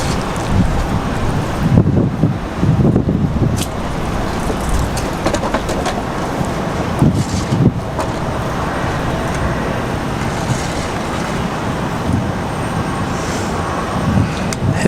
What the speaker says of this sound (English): I don't know if you guys can hear it, but the wind is definitely a struggle.